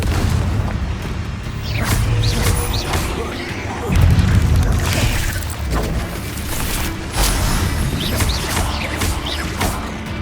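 Confringo fire spell explosions in the video game Hogwarts Legacy, loud repeated booming blasts and crashes over about ten seconds amid continuous combat noise, with a voice briefly heard.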